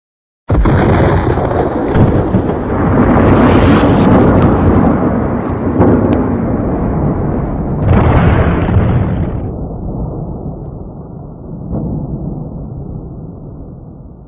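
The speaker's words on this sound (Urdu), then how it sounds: "یہ وہ عظیم الشان دھماکہ تھا" A huge explosion sound effect depicting the Big Bang hits suddenly, then roars as a long, loud, rumbling blast with a second surge midway before slowly thinning out, with no voices.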